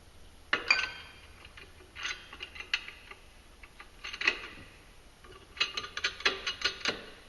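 Ratchet tightening down a Polaris RZR clutch kit, bursts of quick clicking strokes close by with short pauses between, no talking.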